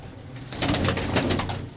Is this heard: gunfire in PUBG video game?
no